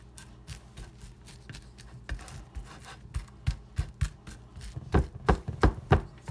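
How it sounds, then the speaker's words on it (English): A spoon pressing sticky Rice Krispie treat mixture flat in a pan, a series of soft dull taps and squishes that grow louder and quicker toward the end. "And press it out with your spoon"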